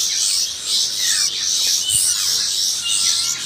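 Long-tailed shrike (cendet) calling, kept as a hand-reared young bird, a loud, close series of harsh, scratchy chattering notes repeated in short bursts.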